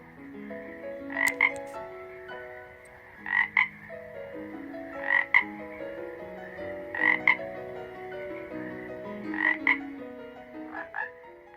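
A cururu toad by a riverbank croaks in short bright bursts roughly every two seconds, each call standing out over sustained tonal, musical-sounding notes; no one speaks.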